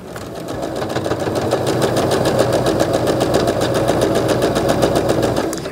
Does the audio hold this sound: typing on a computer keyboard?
no